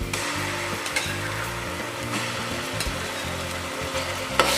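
Onions fry with ginger-garlic paste in a pan for gongura chicken, a continuous close sizzle with repeated stirring scrapes and clinks of a spoon, no talk.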